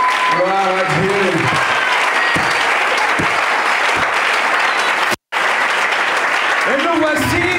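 A church congregation claps loudly and steadily in praise of the Lord. Voices call out over the applause, which stops for a moment near the end and then resumes.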